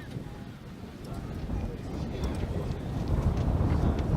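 Gusty wind buffets the microphone outdoors at the Wembley Centre of Excellence during a football semi-final playoff, a low rumbling roar that grows stronger toward the end.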